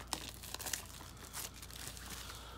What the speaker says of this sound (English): Rip it open.